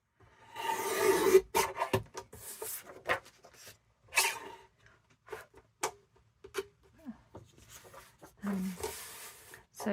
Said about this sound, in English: So I'm just going to trim these up.